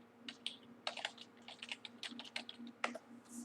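Keyboard typing for an AutoCAD Architecture command, a steady run of close, crisp key clicks over a low electrical hum, with a few quick bursts and short gaps and no talking.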